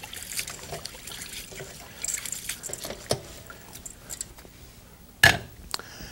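Basmati rice is swished and rinsed in a bowl of water, giving soft sloshing and trickling with a few sharper splashes, close and fairly quiet with no talk.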